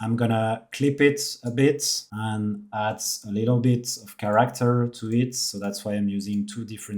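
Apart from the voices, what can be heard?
No distinct noise like a dog, phone or traffic.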